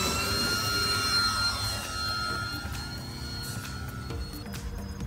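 A Dynam B26 RC model airplane on its maiden flight, with a steady, loud electric-motor whine and prop roar running throughout as it takes off, fairly near and with no talk.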